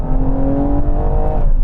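Ferrari SUV engine revving while driving, a loud steady mechanical roar with a rising tonal whine over rumbling road noise, close and continuous for a short burst.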